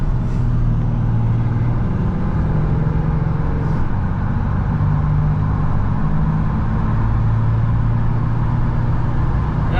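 A Ram 3500 HO Cummins dually diesel towing a Freightliner dump truck accelerates from a standstill toward 45, a loud, steady engine drone with gradually shifting pitch, heard from inside the cab.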